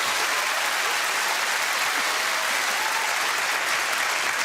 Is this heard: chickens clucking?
no